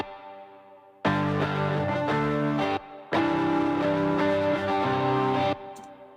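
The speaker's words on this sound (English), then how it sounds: "The easiest to talk about is just these electric strums." Electric guitar strums from an EDM worship track ring out in two sustained chord blocks separated by a short gap, bright and full, with a quiet lead-in and fade at the end.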